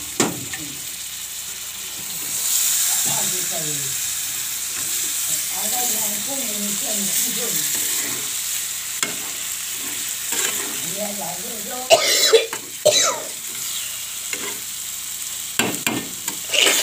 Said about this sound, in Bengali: বাইং মাছটা দিয়ে কষিয়ে নিও।